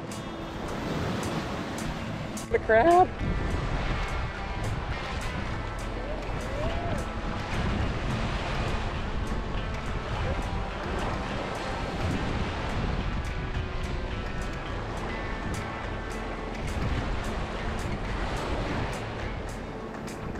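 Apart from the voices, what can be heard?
ocean waves lapping on a white sand beach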